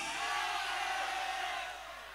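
Boys in a school festival crowd at SMAN1 Gending Fest 2024 cheer, whoop and shout together in a loud, dense roar that holds steady before easing slightly toward the end.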